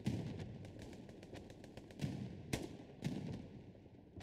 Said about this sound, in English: You can hear that oomph of the 20 mil as it connects with its targets